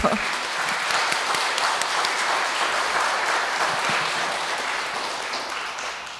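Audience applause fills a church hall welcoming a Salesian priest to a Lenten lecture, steady dense clapping throughout that slowly fades toward the end.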